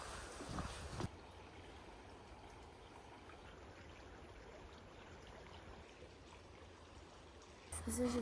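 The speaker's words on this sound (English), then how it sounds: "I love the sound of running water and like a creek, or I guess this is a pond." Running water of a creek or pond on a mountain trail, a soft steady wash and trickle at low level, with brief louder rustling at the start and end.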